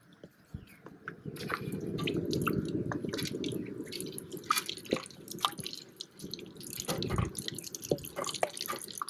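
Curry leaves crackle and spit in hot oil nearby while cooking quail egg Pallipalayam, a dense sizzle broken by irregular sharp pops that flare up again toward the end.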